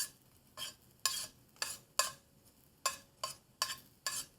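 Catfish pieces frying in a hot skillet are pushed around, producing a series of about nine sharp scraping strokes over a low sizzle, close and evenly spaced.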